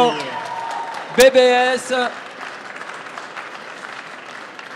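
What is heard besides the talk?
audience applause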